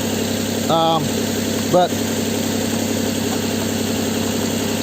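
A car engine idles steadily with an even, low mechanical drone and slight vibration, and someone briefly speaks over it.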